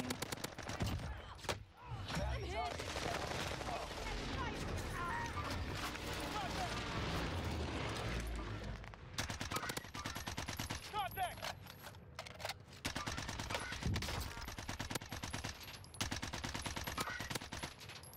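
Rapid automatic gunfire and explosions from a first-person shooter game fill the whole stretch in dense, continuous bursts with brief pauses, loud throughout.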